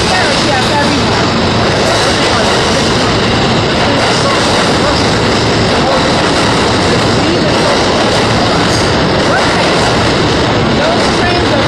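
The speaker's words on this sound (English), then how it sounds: "Those trains are very loud." A train roars past loudly and continuously, a dense rumble and rattle of wheels on track that fills the whole stretch.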